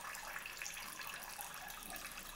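Water streams through small holes in the bottom of a vessel, a steady soft trickling and patter heard close but faint, unbroken for the whole moment.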